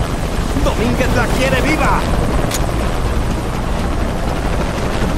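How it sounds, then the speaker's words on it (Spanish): Helicopter in the video game Shadow of the Tomb Raider, a loud, steady rotor roar and engine rumble filling the clip while someone shouts a line in Spanish over it. "Odio los helicópteros."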